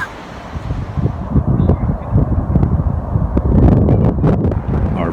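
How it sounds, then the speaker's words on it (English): Gusty wind buffets the microphone in a continuous low roar at Glen Helen, rising and falling in strength throughout. "Very windy today"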